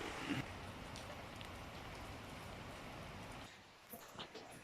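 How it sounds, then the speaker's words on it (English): Hard rain pours down on an outdoor work site during a 4x4 wheel bearing job, a steady hissing wash that stays dense for several seconds, then thins out, with faint spoken voices underneath. "It started raining again. Oh, it's actually coming down hard too."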